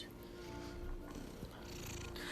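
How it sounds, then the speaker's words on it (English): Cats purr steadily in a soft, continuous low rumble, close and fairly quiet, with faint background noise and no talk. "Listen to them purring,"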